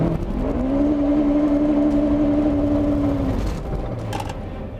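A car at a drag strip staging line spins its wheels in a burnout, giving a loud, sustained engine drone with a steady tire-spinning howl that holds for about three seconds, then drops away.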